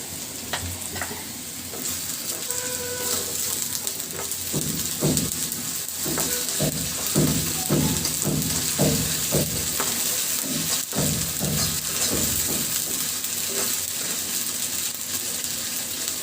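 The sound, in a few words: sliced green chillies frying in oil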